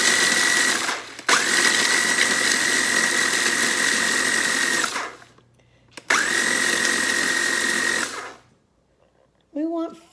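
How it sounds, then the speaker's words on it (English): A food processor pulses graham crackers into crumbs, loud whirring runs of several seconds separated by short silences, with a brief voice at the end. "we're going to start by pulsing the graham crackers first in the food processor"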